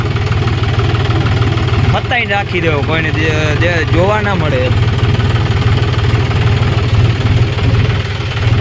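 A tractor engine idles with a steady low chugging rumble throughout, loud and close, while someone speaks briefly over it in the middle.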